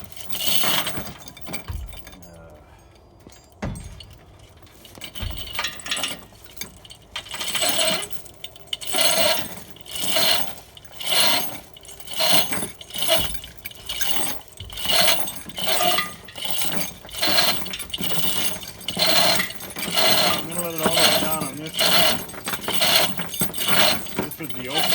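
A chain fall hoist is worked by hand to lift a Peterbilt 359 third member in a shop, giving a steady run of metallic clinks and rattling chain pulls with bursts of rhythmic clatter.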